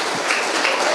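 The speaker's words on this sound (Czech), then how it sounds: "Potlesk" Symposium audience clapping at a closing ceremony, a dense, steady wash of applause filling the whole brief moment.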